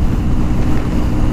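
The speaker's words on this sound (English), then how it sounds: "All I'm hearing is wind, almost no vibration" Steady wind roars past while riding a BMW R1200S boxer-engined sport bike at highway cruising speed, a loud, broad, continuous rush with no distinct engine note.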